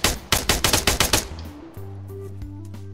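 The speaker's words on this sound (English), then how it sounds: "Maybe shoot my gun as well over here." Arma 3 gunfire: a rapid burst of about eight close, loud shots in quick rhythm, followed by a fading echo and a steady low tone.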